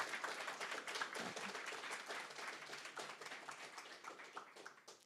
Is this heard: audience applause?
yes